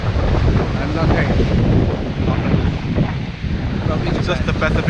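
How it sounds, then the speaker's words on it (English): Pacific Ocean surf rolls onto the sand at Pfeiffer Beach, with strong wind buffeting the microphone into a loud, steady roar throughout. "It's just the Pacific Ocean."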